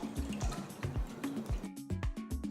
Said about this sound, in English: Take a small pot, add enough water.